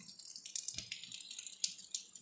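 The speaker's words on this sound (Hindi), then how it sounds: "और पानी भर गया है, बह रहा है।" Water running and filling in a household setting, a steady hiss of flow with small splashes and drips, fairly faint and close, with no one talking.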